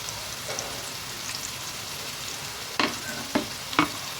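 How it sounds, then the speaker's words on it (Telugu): A soft, continuous frying sizzle from chopped onions and green chillies in oil, with a few sharp clacks of a spoon against the pan near the end. "ఉల్లిపాయ ముక్కలు పచ్చిమిర్చి వేసుకొని వీటిని బ్రౌన్ కలర్లో వచ్చే వరకు అయితే ఫ్రై చేసుకుంటాం"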